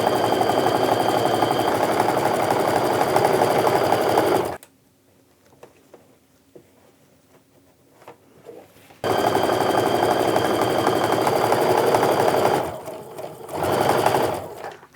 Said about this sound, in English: I'm just going to sew these together to get that set of 3 going